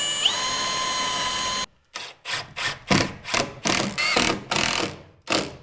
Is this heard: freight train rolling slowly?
no